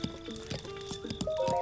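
A horse in the video game Zelda Breath of the Wild clops with quick hoof steps and a snort, along with short game tones and chimes, with no talk.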